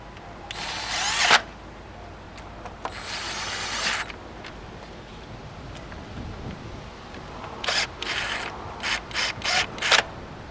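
A ratchet tightens the valve cover bolts on a Nissan Altima 2.5, giving bursts of rapid clicking, two long runs early on, then a series of short quick bursts, close up against quiet background.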